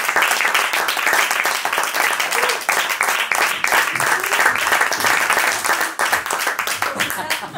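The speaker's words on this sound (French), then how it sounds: "merci pour vos applaudissements" Crowd applause after a theatre interview at the Avignon festival, many distinct hand claps in a dense, fluttering stream, close and lively, with some voices faintly mixed in.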